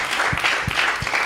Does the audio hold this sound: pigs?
no